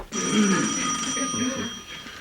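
An old-fashioned telephone bell rings indoors at a family gathering, a steady metallic trill lasting about two seconds, with faint voices in the background.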